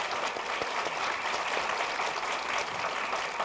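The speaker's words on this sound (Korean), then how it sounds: "박수로 환영." Audience applause welcoming a research professor at a Korea University law school special lecture, steady dense clapping throughout, fairly even and sustained.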